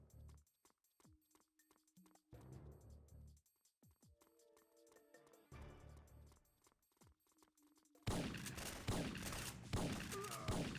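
Rapid bursts of video game gunfire in an old-style shooter, sharp repeated shots in clusters and sustained volleys, growing into a dense, loud barrage in the final seconds.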